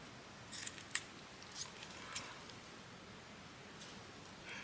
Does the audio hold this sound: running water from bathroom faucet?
no